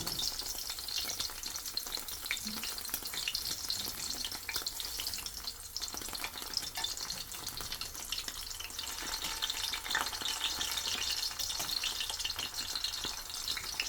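Meatball, pineapple, pepper and cheese pinchos fry in a pan with a steady, dense sizzle and crackle that holds at an even level throughout, broken by occasional spatula stirring and scraping.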